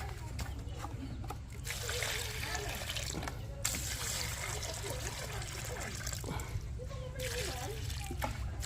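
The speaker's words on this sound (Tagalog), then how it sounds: "dagdagan natin ng tubig." Water poured into a homemade swamp fertilizer mix for vegetable plants trickles and splashes steadily, faint and close, with a few brief breaks and a voice talking over it.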